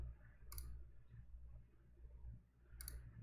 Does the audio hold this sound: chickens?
no